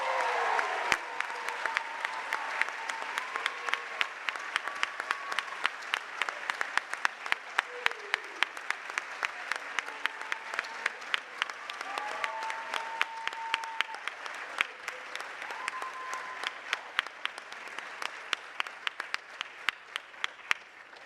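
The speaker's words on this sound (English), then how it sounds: "Can we give it up for our Rankin Patriot Scholar" A school prize-day audience applauds a scholar with a sustained crowd of clapping hands, dense and steady for about twenty seconds, with occasional sharper claps standing out and a voice briefly heard near the start.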